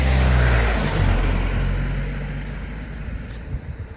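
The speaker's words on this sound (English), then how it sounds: "I can't get away from cars" A car passes on a road in open countryside, a loud broadband rumble at first that slowly fades as it moves away.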